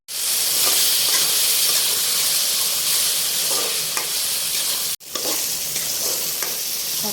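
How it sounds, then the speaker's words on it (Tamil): Tomatoes and green chillies sizzle and hiss loudly in a hot pan for prawn thokku, a constant close frying roar with faint stirring scrapes and one brief break. "தக்காளி நல்லா வதங்கிடுச்சு"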